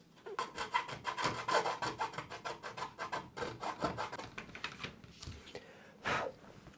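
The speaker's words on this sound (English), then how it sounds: "using a file, I'm going to file that burr down" A hand file rasps back and forth across a burr on a Flite Test Master Series F14 Tomcat build part, giving a steady run of quick, close scraping strokes with a short pause and one last stroke near the end.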